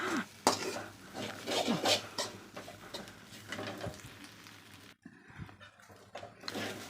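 A spoon stirs shredded chapati noodles with scattered coriander leaves in a pan, scraping and clinking against the metal in quick irregular strokes, close and fairly loud, then briefly stops before a few more stirs.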